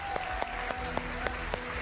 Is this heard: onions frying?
no